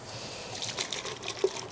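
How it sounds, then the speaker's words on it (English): Water is poured onto steelhead eggs already mixed with milt during hatchery spawning, giving a faint, soft trickle and splash, close and quiet, with no talk. "once we start adding water, so I got a water here"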